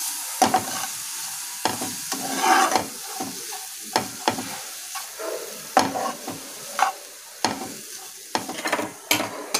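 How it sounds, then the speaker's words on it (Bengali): Spices with garlic paste, turmeric and salt stirred in a frying pan, a soft sizzle under a series of crisp spatula scrapes and taps against the pan at an irregular rhythm, close up. "হলুদ গুঁড়ো, লবণ, আর এটা সামান্য একটু নেড়ে চেড়ে নেব।"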